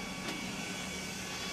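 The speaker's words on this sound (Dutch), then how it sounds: "Wat je hoort is een stofzuigermotor die letterlijk lucht aanzuigt van vier verschillende kanten onder het deksel door." Vacuum cleaner motor in a dust sampler drawing in air from four sides under its lid, a steady, quiet whirring hum with an even airy rush and no talk.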